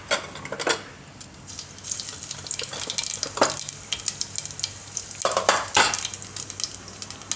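Cumin seeds crackling in heated oil for Gujarati dal and cauliflower khichdi, a soft hiss with a few sharp spatters and scrapes, close by with no talking.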